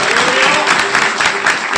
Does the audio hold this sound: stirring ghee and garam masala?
no